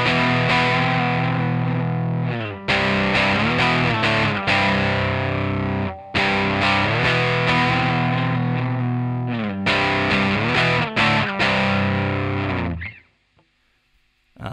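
Distorted electric guitar plays the break section of a song, loud and alone, with sustained chords cut by brief stops, then ringing off into near silence at the end.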